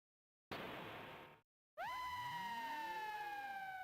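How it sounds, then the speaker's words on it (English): A scream from the Chrono Trigger video game, a loud burst that cuts off, then a sharp falling synthesized wail with ringing echoes follows after a short gap. "The scream."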